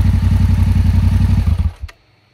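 A motorcycle engine fires up with first gear held engaged, running with a steady low pulsing throb for a moment before cutting out abruptly and falling silent.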